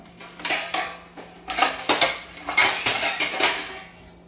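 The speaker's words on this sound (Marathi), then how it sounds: "तर चला झाकण ठेवून देते" A metal lid is set onto a kadhai of cooking spinach, giving a series of close clattering knocks and clanks with short pauses between them, no voices.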